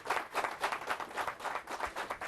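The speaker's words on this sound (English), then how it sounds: "give him a big round of applause for Brother Runoko Rashidi." A lecture audience gives a speaker a big round of applause: dense, continuous clapping from many hands fills the room with no voices over it.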